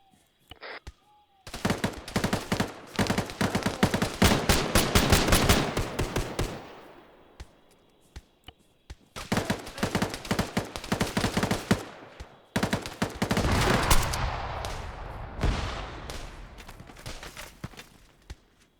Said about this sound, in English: They're going to try shooting some mines.